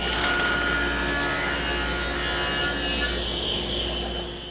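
A table saw rips a beveled wood strip against the rip fence, with a steady motor hum under a continuous rough, rasping cut.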